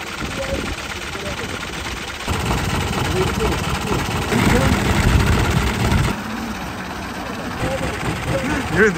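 The engine of a broken-down vehicle, stuck in the middle of nowhere and still smoking, idles with a low, uneven rumble and knocking pulses, its level shifting over several seconds while people talk nearby.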